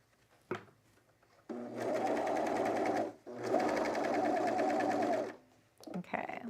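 A sewing machine stitches jeans in two loud, steady runs of fast, even needle clatter, separated by a brief pause, with short handling knocks before and after.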